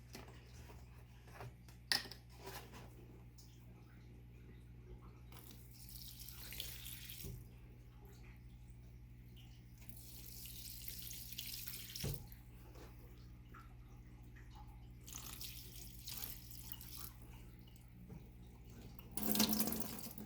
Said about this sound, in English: let's walk into the kitchen and water some plants